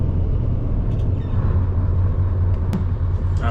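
A Scania 4 Series lorry engine idles steadily, giving a loud, deep, continuous rumble that fills the clip, with a few faint brief clicks and hisses on top and no speech.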